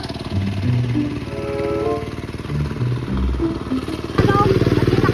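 A motorcycle engine runs close by with a steady mechanical clatter, revving up louder near the end while people talk over it.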